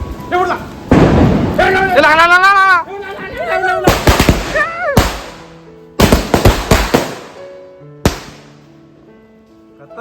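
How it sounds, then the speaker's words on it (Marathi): A string of taaj bomb firecrackers bursts in loud, rapid crackling volleys with sharp pops, broken by short gaps, while someone talks excitedly over and between the blasts. "आता आपण मस्त माळ लावतोय दादा खास लावतोय सर्व ताज बॉम्बची माळ आहे उडणारच सर्व"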